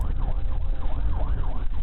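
A police car siren wails in a rapid rising-and-falling yelp over low road and engine rumble during a pursuit of a teen on a motorcycle, steady and fairly close.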